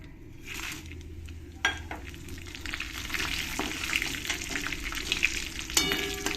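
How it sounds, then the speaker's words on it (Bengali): Whole spices, bay leaf, cumin seeds and dry red chillies, sizzle steadily in hot oil while chicken is being fried for chicken bhuna, with a spatula stirring and scraping, and sharp clinks from the pan. "এই তেলের মধ্যে দিয়ে দেব কিছু গোটা মশলা তেজপাতা জিরে আর শুকনো লঙ্কা"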